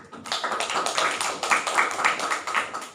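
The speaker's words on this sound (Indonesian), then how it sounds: "berikan tepuk tangan yang meriah" A panel discussion audience claps in a dense patter of many hands. The applause is fairly loud and steady for about three seconds, then begins to fade.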